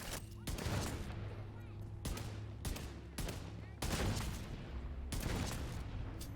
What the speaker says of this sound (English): Well, that was more clinical shooting.